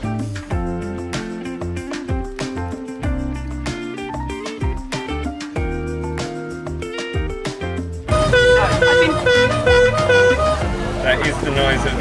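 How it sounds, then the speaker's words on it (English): Ice cream moped jingle on a street in Taipei: a loud, bright, repetitive electronic melody with a rhythmic beat for about eight seconds, then shifting to a busier, brassier tune with traffic noise around it. "That is the noise of the ice cream moped."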